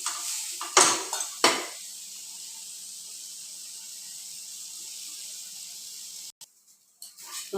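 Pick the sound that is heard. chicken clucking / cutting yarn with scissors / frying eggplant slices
frying eggplant slices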